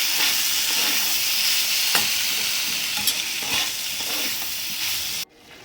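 Fried flat beans and potatoes being stirred into a spiced masala in oil, a steady close sizzle with scraping spatula strokes throughout, cut off abruptly just before the end.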